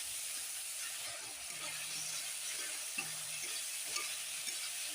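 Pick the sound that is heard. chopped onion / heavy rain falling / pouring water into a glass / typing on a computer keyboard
chopped onion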